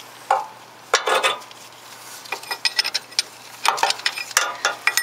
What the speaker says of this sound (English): let's quickly loosen the first nut